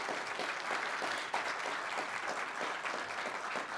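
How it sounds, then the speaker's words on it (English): A conference audience at a plenary session applauds, a steady, even spread of many hands clapping throughout, moderately distant and with no voices on top. "Give her a round of applause."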